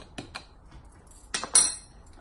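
A spoon knocks and scrapes against a container while breaking up porridge for a smoothie, a few sharp taps followed by a louder cluster of scraping clinks, close and with no talk.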